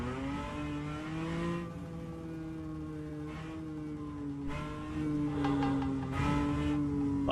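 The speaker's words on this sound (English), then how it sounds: "But is the car making that noise, Mr. Music?" A race car engine in the rFactor 2 sim racing game drones steadily with a sustained, tonal whine that rises and falls as it revs, heard alone without speech.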